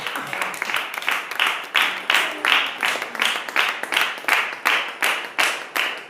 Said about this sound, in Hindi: क्या आप ताली दे सकते हैं?